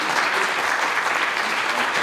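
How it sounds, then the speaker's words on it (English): An audience at a city council candidate forum claps steadily, a full, even round of applause that carries on without a break. "let's have a round of applause for our"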